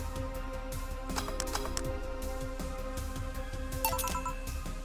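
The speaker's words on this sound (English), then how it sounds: "Shut up, phone!" A phone ringtone rings repeatedly on a desk during a livestream of the cyberpunk bartender game VA-11 Hall-A, a steady electronic melody that loops under game music and clicking, fairly loud and continuous throughout.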